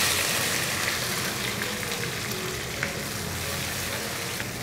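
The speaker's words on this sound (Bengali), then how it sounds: "পেঁয়াজটাকে ভেজে নেড়ে চেড়ে মিশিয়ে নেব" Chopped onions fry in a pan for a mixed vegetable dal, heard as a steady close sizzle with a few faint stirring clicks.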